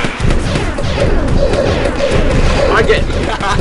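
Dense crackling bursts and thumps from a fireworks weapon in the artillery game Pocket Tanks, loud and sustained, with talking over them.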